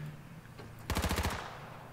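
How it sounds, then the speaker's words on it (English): A quick burst of automatic gunfire fired from a car window in the video game H1Z1, about eight rapid loud shots in under half a second, standing out over a low engine hum. "He's kind of popping out the window and shooting people."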